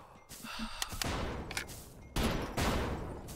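Gunfire in the Bullet Force shooter game comes in rapid bursts of dense, loud shots with brief pauses between volleys, clipped and close.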